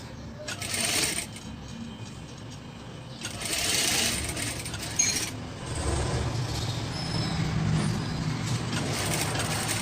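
A sewing machine stitches fabric for a handmade face mask, running in loud bursts of rapid mechanical chatter separated by quieter pauses, with a steady hum in between.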